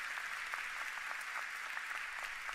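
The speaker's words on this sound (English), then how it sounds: "Give her a round of applause." At a university president's investiture ceremony at Cal Poly Pomona, an audience claps in a soft, even patter that sounds somewhat distant and continues steadily throughout.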